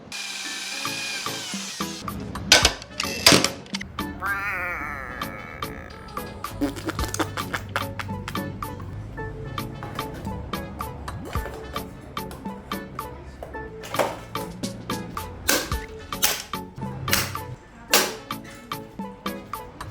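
Rivets are set one after another into an electric scooter frame, sharp metallic snaps and clacks with short bursts of power-tool whine, close and irregular amid handling noise.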